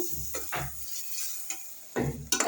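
A rohu fish head fries in masala, with a few separate stirring scrapes and soft sizzling between them, close but fairly quiet.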